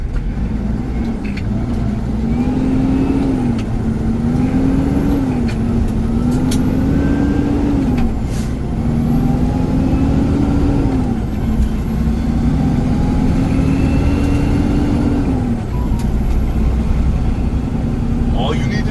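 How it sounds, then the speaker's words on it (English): A semi truck's diesel engine drones steadily at around 1400 RPM while shifting through gears, its pitch climbing and dropping in a repeated rhythm under a constant cab rumble. "1400 RPMs, I'm listening at the motor."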